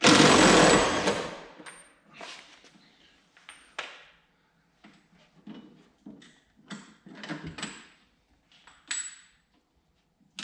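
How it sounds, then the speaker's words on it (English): Undoing the shock absorber top mount on a Ford MK2 Escort: a loud burst of a power tool first, then scattered close metallic clicks, clunks and light ratchet taps separated by quiet gaps. "So now we just need to undo the top mount to let the shock come away from its position."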